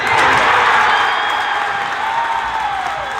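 A gym crowd roars with cheers and applause right after a Bulldogs basketball dunk, loud and sustained at first and easing slightly as the noise carries on.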